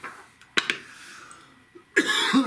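Two sharp coughs close to the mic, followed by a short burst of throat clearing or coughing near the end.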